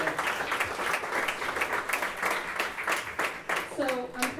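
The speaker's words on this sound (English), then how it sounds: "So I want you all to give yourselves a round of applause just for that." An audience at a live talk event in Portsmouth bursts into sustained applause, a dense and steady patter of many hands clapping close by. A voice briefly comes through near the end.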